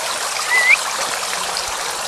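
Unfrozen water flows and trickles steadily close by at a mountain hotel and spa in Devin, in Bulgaria's Rhodope Mountains, a constant babbling hiss with one brief whistle-like squeak partway through.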